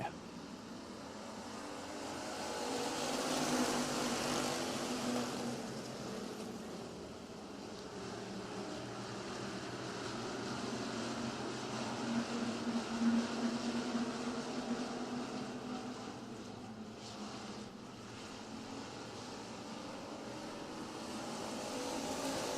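Race cars circle a short oval track in a distant, steady engine drone that swells and fades as the pack passes, with crowd noise and faint talk underneath.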